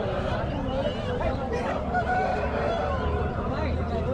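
A one-year-old rooster crows loudly up close, its call rising and stretching over a noisy market din with other fowl clucking and people chattering.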